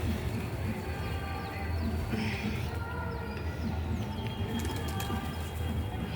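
Pigeons gather on a rooftop terrace on a Pongal morning, giving faint coos and wing flutters over a steady wash of outdoor background noise.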